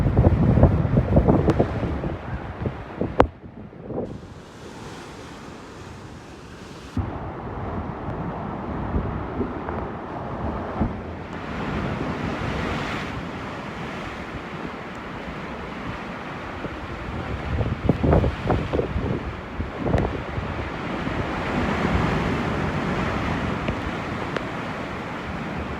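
Rough sea swells of three to five feet rolling through a sound during Storm Ciara in the UK, heavy wind buffeting the microphone over a continuous roar of surf, with gusty surges rising and falling throughout.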